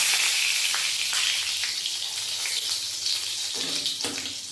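Whole cumin seeds and a bay leaf sizzle steadily in hot mustard oil in a kadai on a gas stove, a dense continuous frying hiss with a few soft clicks, close and fairly loud, with no talking.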